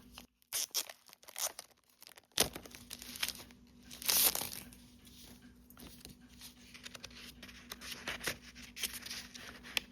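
Paper scraps from a craft haul package are handled up close, with continuous soft crinkling, rustling and light tearing that rise and fall over about ten seconds, and no voices.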